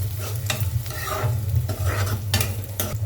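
Peeled garlic cloves stirred and sautéed in a pan for garlic kuzhambu, with a steady low sizzle and repeated scraping strokes of a spoon across the pan, fairly close and without talk.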